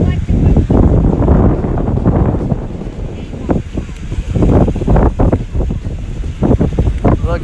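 Strong wind buffets the microphone at the Cape Cod shore in Dennisport, Massachusetts, a loud gusty rumble that continues under several people talking.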